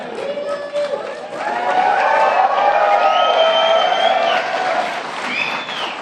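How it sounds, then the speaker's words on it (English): Audience at a Tribal Nations summit speech breaks into sustained applause with cheering and whoops, swelling loud and steady before tapering off, with voices rising above the clapping crowd. "To make this new era, well, you should be clapping."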